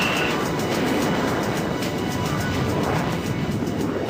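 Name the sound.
Eurofighter Typhoon jet taking off in FS2004 flight simulator video game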